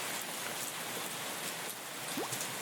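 Steady rain falling in a farming video game, a dense continuous patter of drops with no voices, holding even and fairly loud throughout.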